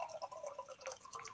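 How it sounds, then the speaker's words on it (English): Drink poured into a simple rocks glass, a faint, quiet trickle of liquid with dripping and splashing filling the glass over about a second, heard alone. "Pour our drink in there."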